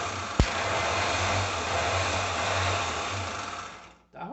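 A JF MB 710 starter motor wired straight to the coil and running on the bench, giving a steady, fairly loud whirring drone with slight vibration that winds down and stops near the end after one sharp click.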